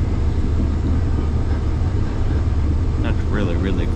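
Steady low rumble of a moving train heard from inside, with a faint voice briefly audible near the end.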